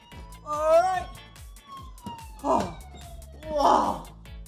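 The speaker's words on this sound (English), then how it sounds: "And we have the siren." Toy police car siren sounding in short bursts, a wavering wail repeated about three times over a low rhythmic pulsing, with an excited voice talking over it.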